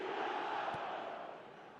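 Stadium crowd in the football video game eFootball 2026 roaring after a goal, a dense sustained wall of cheering that stays loud and slowly eases off, with no talk over it.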